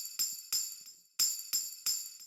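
Tambourine in Logic Pro sent through a stereo delay: five bright jingling shakes at an uneven pace, each trailing off in repeating echoes, with no talking.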